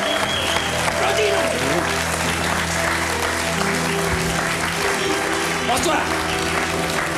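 Sustained audience applause on a French TV variety show as a guest is welcomed, dense clapping continuing under a presenter's voice and background music.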